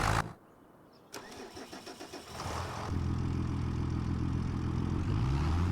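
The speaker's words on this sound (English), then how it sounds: "let's go hop back into that other truck, or the other tractor" A farm tractor engine cranks with a stuttering starter for a couple of seconds, catches, and settles into a loud, steady, close-up idle rumble with no talking.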